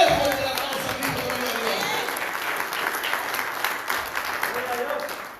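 Applause from a church congregation during a Spanish-language evangelical service, a dense steady wash of many hands clapping that stays loud and continuous throughout with no pauses.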